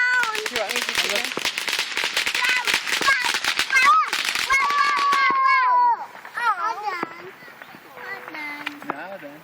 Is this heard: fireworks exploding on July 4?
yes